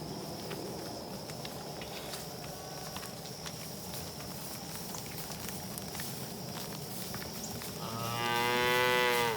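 A cow lets out a single loud, drawn-out moo near the end, after a long stretch of faint outdoor rustling and patter.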